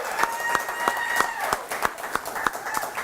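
An audience claps in a steady, rhythmic unison beat, about three claps per second, at a recruiting signing-day event for Tennessee football, with crowd murmur under the claps.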